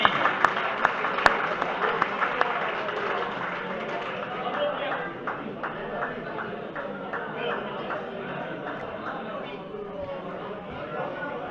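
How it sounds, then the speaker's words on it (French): An audience applauding award winners at a trophy ceremony, with a burst of clapping early on that then settles into scattered claps under chatter and a speaking voice. "Et on peut les applaudir"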